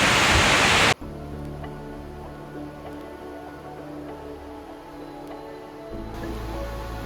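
A forest waterfall below the main falls in Khao Luang National Park, Nakhon Si Thammarat, Thailand, gives a loud, steady broadband rush. The rush drops off sharply after about a second, leaving a quieter hum, then swells back near the end.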